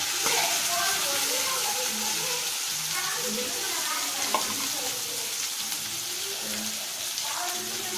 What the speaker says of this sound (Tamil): நம்ம நறுக்கி வச்சிருக்கிற வெங்காயத்தை இதில் போட போகிறோம்.